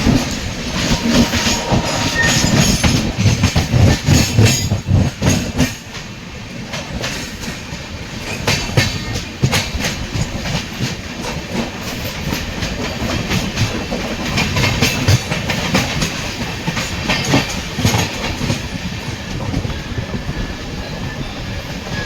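Train no. 22626, the MGR Chennai Central double decker express from Bangalore to Chennai, running on the main railway line: continuous loud rumble with rhythmic clickety-clack of wheels over rail joints and occasional squeals, heard up close without talk.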